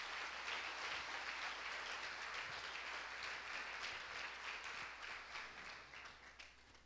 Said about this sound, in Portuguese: Quem pode dar uma salva de palmas para o Senhor Jesus?